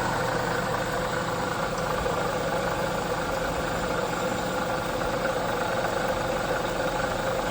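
The engine of a 2009 Chevy Silverado idles steadily, with a metal piece held against the water pump, giving a constant loud broadband hum and drone with no change over the stretch.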